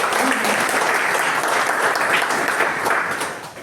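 An audience claps together at a business talk: a dense, steady patter of many hands, fairly close and loud, running the whole time with no voices on top.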